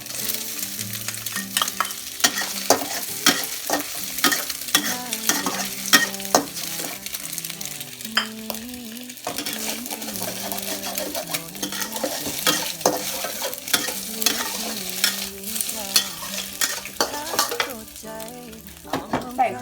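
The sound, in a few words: sausage and egg frying and being stirred in a pan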